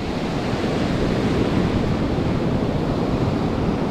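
Ocean surf breaks on a beach where someone is bass fishing, a close and continuous wash of waves with some wind rumble and no voices.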